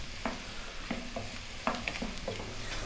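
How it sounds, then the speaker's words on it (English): Mushrooms with onions and garlic cooking gently in a pan, a soft sizzle under regular close stirring scrapes, quiet and without talk. "Let's cook those mushrooms down with the onions and the garlic."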